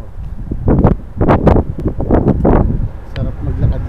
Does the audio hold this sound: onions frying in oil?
no